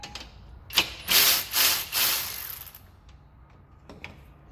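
A ratchet wrench turning a short socket on bolts of a Ford F-150 2WD truck with a 3.5 EcoBoost engine, three or four close, loud ratcheting bursts followed by quieter clicks and faint clanks, no talking.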